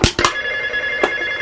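A telephone rings indoors in a short burst with a brief electronic tone, the ring steady under a faint background hum, no voices present.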